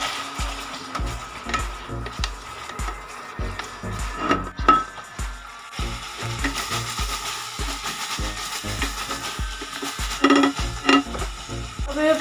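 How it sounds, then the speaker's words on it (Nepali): Onions fry in oil in a pan with a steady sizzle, while a spoon stirs and scrapes against the pan in a quick, repeated rhythm, close and clear with no talking. "प्याज रातो नहुन्जेलसम्म अलि रातो नहुन्जेलसम्म यसलाई भुट्ने"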